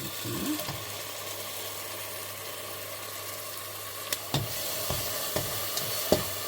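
Onions sautéing in ghee and coconut oil: a steady low sizzle with a few sharp clicks of stirring toward the end.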